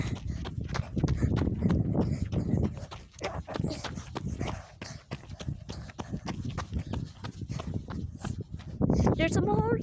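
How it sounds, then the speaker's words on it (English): Horses walk nearby at a grandmother's house, a clear clip-clop of hooves in an irregular rhythm, with people talking over and between the steps. "there's some horses. See. There's horses."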